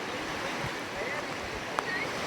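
Water from Tapalwadi waterfall near Neral rushes down a foggy hillside in a steady, even roar, with faint voices in the background.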